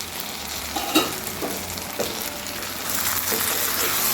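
Raw banana pieces fry in a pan with a steady close sizzle, broken by a few scraping knocks as they are stirred.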